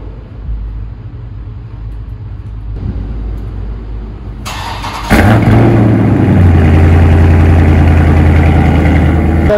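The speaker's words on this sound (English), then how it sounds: "let me give you guys a cold start real quick." A car engine cold-starts after several seconds of quiet outdoor rumble, then settles into a loud, steady idle that holds to the end.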